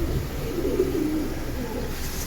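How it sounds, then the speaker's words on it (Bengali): A silver pigeon coos softly nearby, a low throaty warble over a steady background hum. "সিলভার বেজি লাইনের কবুতরটা"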